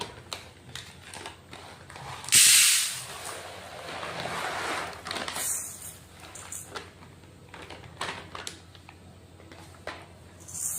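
One kilogram of jowar (sorghum) grain is poured into a container in a kitchen, a close, loud rush of hard grains that surges and then trickles off into scattered ticks and patters.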